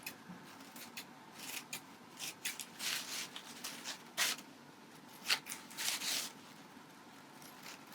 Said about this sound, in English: just use your scissors and trim the flower